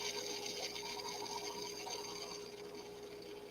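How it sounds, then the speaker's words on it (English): A drill bores holes into the end of a piece of Indian river buffalo horn, giving a steady, close grinding whir with a high-pitched hiss that fades slightly toward the end. "I'm going to go put some drill holes on the end of this buffalo."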